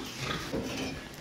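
Pigs shuffle and grunt in a piggery pen as they are moved, a busy, continuous mix of snorts, hoof scrapes and metal rattles at moderate level with no talk.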